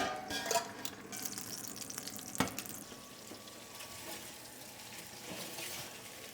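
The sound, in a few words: beef chuck roast searing in beef tallow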